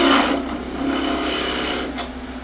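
A skew chisel cuts a wooden spatula spinning on a lathe, giving a steady, loud, close scraping hiss that lasts throughout and eases briefly near the end, with no voices.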